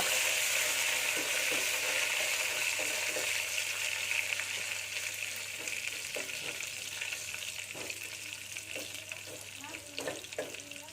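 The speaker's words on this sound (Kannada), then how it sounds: "ನಾಲ್ಕು ಬ್ಯಾಡಗಿ ಮೆಣಸಿನ್ಕಾಯಿ, ಸ್ವಲ್ಪ ಕರಿಬೇವು. ಅವೆಲ್ಲ ಸ್ವಲ್ಪ ಕಲರ್ ಬರೋಗಂಟ ಹುರ್ಕೋಬೇಕು" Four Byadgi chillies and a handful of curry leaves fry steadily in hot oil for a toor dal saaru tempering, a continuous close sizzle with small stirring knocks and clinks throughout, gradually easing slightly toward the end.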